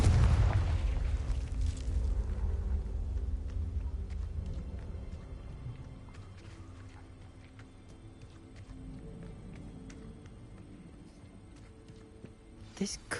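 Confringo blasting spell exploding in the Hogwarts Legacy video game, a deep, heavy boom that rumbles at the start and slowly fades over several seconds, followed by quieter crackles and a small burst near the end.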